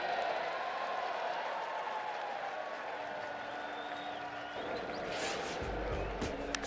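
A baseball stadium crowd roars and applauds during a big Cardinals inning against the Reds, a broad, continuous wall of cheering heard from a distance, with a brief sharper burst near the end.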